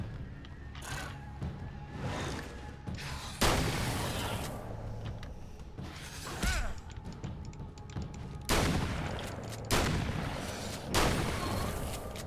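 Shotgun blasts in the video game Alan Wake's American Nightmare: several loud, booming shots spaced a few seconds apart, with game ambience between them.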